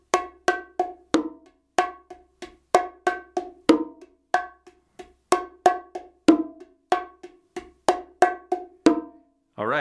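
Bongos play a typical Latin rhythm pattern, a steady run of crisp, ringing hand strikes in a repeating groove, close and loud with no talking.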